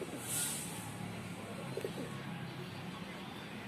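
Pigeons coo softly in their loft, a faint, brief call near the start against a low, steady background hush.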